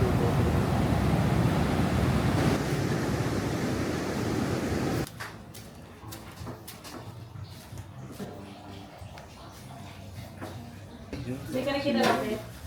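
Ocean surf at Sabang Beach in Baler, a loud wash of breaking waves and wind rumble that drops away midway, followed by quieter background with people talking nearby.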